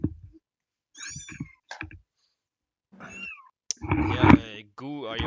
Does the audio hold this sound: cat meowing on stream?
yes